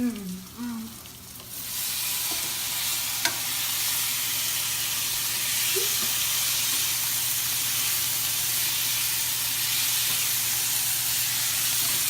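Tomatoes hit a hot pan and burst into a loud, steady frying sizzle that hisses on close by for several seconds after a brief stir at the start.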